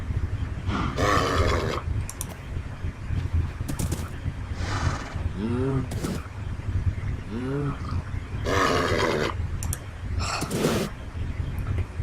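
A horse in a video game grunts and whinnies a couple of times over a dense, steady background of game sounds.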